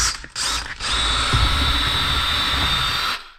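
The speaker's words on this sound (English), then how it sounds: "you're drilling through your roof" A power drill bores through the roof of a 2026 Can-Am Defender HD11 Limited utility vehicle with a loud, steady whirring grind that lasts about three seconds after a couple of brief starts, then cuts off abruptly.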